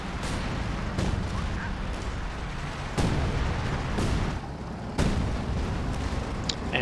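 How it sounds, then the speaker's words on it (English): Artillery barrage in the Company of Heroes 2 strategy game, with heavy booms landing about once a second over a dense, continuous rumble of battle noise. "That's the major artillery, I believe."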